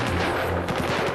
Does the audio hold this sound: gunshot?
yes